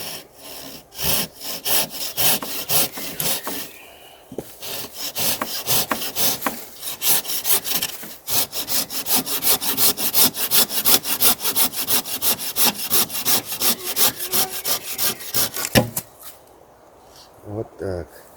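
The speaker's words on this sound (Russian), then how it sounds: "Будем пилить вот эту ветку." A hand saw cuts through a dry wooden tree branch in long, rapid back-and-forth strokes, loud and close, with a brief pause early on and the rasping ending near the close.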